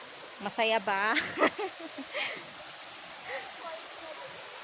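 Bolinao Falls gives a steady, soft rushing hiss of falling water in the background while a person talks briefly over it.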